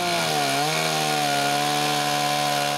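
A chainsaw mill cuts through wood, its engine droning loud and steady close by, pitch dipping briefly as the chain bites and then holding a constant whine under the rasp of cutting.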